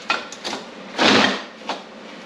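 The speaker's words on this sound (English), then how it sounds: "let's get this first one welded up here" Welding on steel parts of a homemade motorized tire stand: a few short, close crackling bursts, with one longer burst in the middle and quiet gaps between them.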